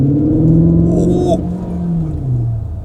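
A Cupra Terramar plug-in hybrid with DSG gearbox pulls hard under full-throttle kick-down, its engine note rumbling and climbing steadily, with a brief higher whine partway through, heard from inside the car.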